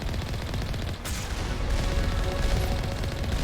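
Rapid gunfire from the player's weapon in a video game, a steady dense stream of shots at even loudness throughout, alone without talk.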